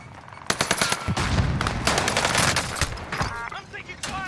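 Automatic weapon bursts from an M4A1 rifle in the Warzone battle royale game, loud rapid volleys and scattered shots throughout, dense and close with overlapping impacts.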